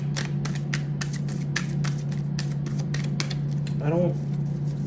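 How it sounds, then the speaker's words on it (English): Quick repeated riffling snaps of tarot-style reading cards being shuffled close by, with a short bit of voice near the end. "I started shuffling"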